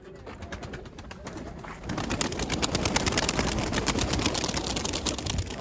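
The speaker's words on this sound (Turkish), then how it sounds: "burada kuş sayısı fazla." Pigeons coo steadily nearby, with a burst of rapid wing flapping and fluttering joining in partway through that stays busy and fairly loud until the end.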